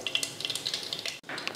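Mustard seeds and urad dal sizzle in hot oil for a sambar tempering, a faint, brief, steady crackle with light popping, close by and with no voices.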